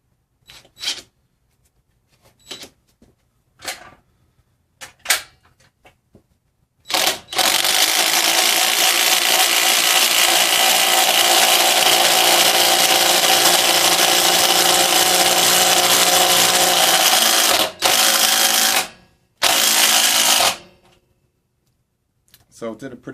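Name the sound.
DeWalt 20V Max DCF885 impact driver driving a lag bolt into wood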